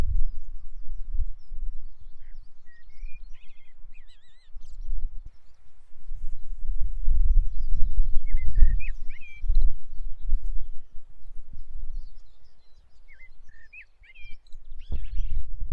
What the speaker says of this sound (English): Male blackbird.